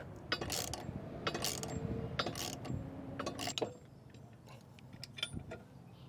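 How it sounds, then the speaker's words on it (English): A ratchet tightens a bolt with a 27mm socket: a run of quick metallic clicks in short bursts, close and fairly faint, with pauses between strokes. "I'm gonna go ahead and tighten this top bolt down here with a 27mm socket."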